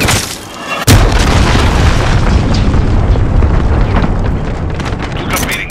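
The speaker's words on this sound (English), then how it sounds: "Enemy cruise missile incoming!" Cruise missile explosion in the Call of Duty Modern Warfare video game: a sudden loud boom lands about a second in, followed by a long roaring, rumbling blast that slowly fades, with a voice heard alongside it.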